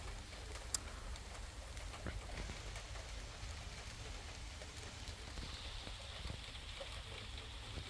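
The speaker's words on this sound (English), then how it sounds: "it is raining" Steady rain falls outdoors during a June thunderstorm in Canada, a faint, even patter on surfaces with a single sharp tick near the start and no thunder.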